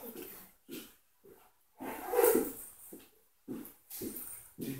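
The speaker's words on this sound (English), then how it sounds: "They have dogs. They'll come and get me." Dogs in the Call of Duty video game bark and whimper in short repeated bursts, fairly close and clear, with a louder growling stretch in the middle.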